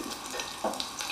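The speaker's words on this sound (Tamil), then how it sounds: "ஒரு ஸ்பூன் சோம்பு போட்டு ஃப்ரை பண்ணிக்கணும்" Fennel seeds and whole spices frying in oil for a mutton tomato gravy, a faint, brief crackling sizzle with a few small pops, close by and without speech.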